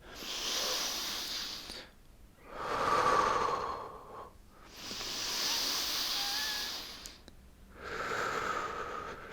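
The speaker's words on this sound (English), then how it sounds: "we're going to breathe for 3 breaths in this position" Slow, deep breaths held through a yoga lunge, four long airy inhales and exhales alternating in a steady rhythm, close and fairly loud with no talking.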